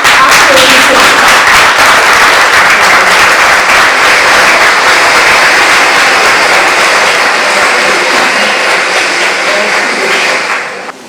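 A large audience claps continuously at an anniversary award ceremony, a loud, even roar of hands that holds steady and then tapers off at the very end.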